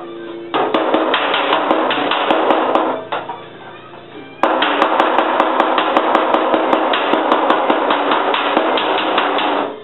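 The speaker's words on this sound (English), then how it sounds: "I'm going to switch to my heel dolly and a hammer and do some on-dolly work" Dense, rapid hammer-and-heel-dolly blows on the sheet metal of a 1970 Triumph TR6 door, a steady barrage of close ringing strikes with a brief quieter pause in the middle before resuming.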